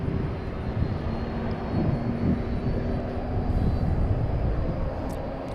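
An airplane arrives at a very busy airport, its engine roar a steady, broad rumble that holds at moderate loudness throughout.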